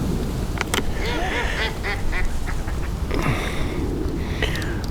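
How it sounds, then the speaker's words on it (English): Ducks quacking near a fishing lake where a float angler is after perch, repeated nasal calls in irregular bursts over steady wind noise, no talk. "Ducks have all gone over to where the other match angler was fishing"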